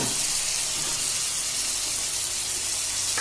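Garlic, chili and onion frying in a pan give a steady, loud sizzling hiss that stays constant throughout, with no voices.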